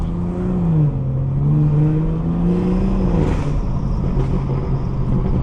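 A car's engine hums steadily while driving with a manual transmission, its pitch sliding down as a gear changes and then holding a smooth, close drone throughout.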